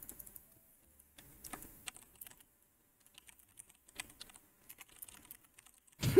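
Sparse, quiet computer keyboard typing in irregular bursts of soft clicks over near silence, ending with a louder thump.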